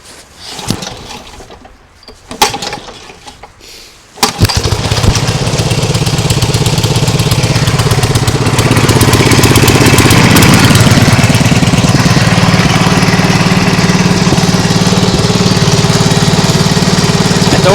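A Nibbi G619 walk-behind tractor engine, with a freshly serviced carburettor and clutch, fires up after a few rough attempts, then runs at a loud, steady, close chugging drone that slightly rises in pitch as it settles.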